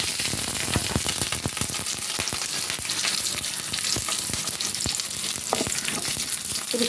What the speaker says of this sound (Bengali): কুচনো রসুন দিয়ে আমি ভালোভাবে রসুনটাকে ভেজে নেব